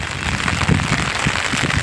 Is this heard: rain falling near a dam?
yes